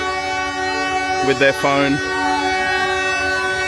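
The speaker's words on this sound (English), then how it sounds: "And this is the very last train of the season for this children's railway." A children's railway train passes with a steady rumbling drone and a brief sounding of its horn or whistle partway through, while a person speaks briefly over the noise.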